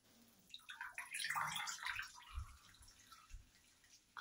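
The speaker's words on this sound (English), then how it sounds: "I just dripped loads of water." Water splashes and drips faintly in a sink while make-up is washed off with cold water, a brief gush of trickling followed by a few soft low drips and quiet rubbing.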